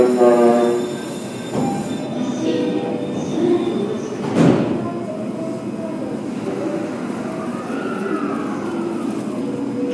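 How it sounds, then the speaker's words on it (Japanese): A train rumbles and squeals along the rails at platform 8 of JR Ueno Station, with a rising tone at the start and a sharp clank midway, steady noise throughout. "8番線の列車は間もなく発車です。"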